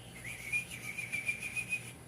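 Faint, high whistling by a person imitating birds singing at dawn, a wavering run of short chirped notes with a soft low hum beneath.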